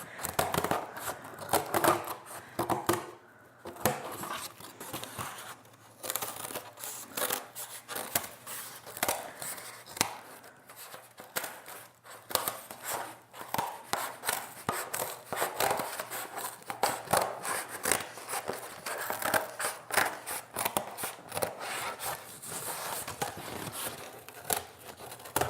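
Scissors cut a pattern out of cardboard in rapid, irregular snips and crunches, close and fairly loud, continuing throughout with short pauses.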